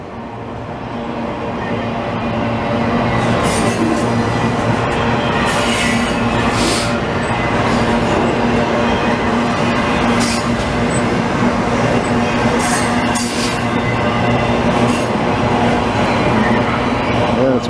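A CN autorack freight train rolls steadily past at close range in Dorval, Montreal, its wheels and cars producing a loud, continuous rumble with metallic screeches and clacking throughout.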